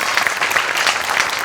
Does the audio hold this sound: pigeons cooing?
no